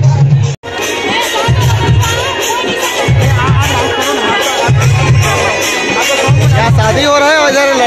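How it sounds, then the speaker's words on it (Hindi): Dense crowd hubbub at the Thakur Dev Kumbh Mela fair in Edu Chhal, a steady loud wash of many voices with shouts and chatter, nearby people talking over it and rhythmic low pulses throughout. "बहुत ज्यादा भीड़ है"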